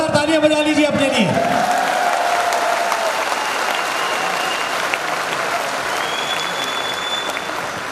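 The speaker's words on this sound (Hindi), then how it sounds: "एक बार जोरदार तालियां बजा लीजिए अपने लिए।" Seminar audience breaks into loud, sustained applause for themselves, a dense crowd clapping that follows a brief voice at the start and continues evenly to the end.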